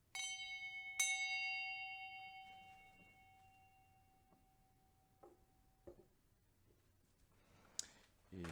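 A large bell rung to drive away unwanted spirits, struck near the start and again about a second later, each strike leaving a long, pure ringing tone that decays slowly, with a few faint clicks and a brief jingle at the end.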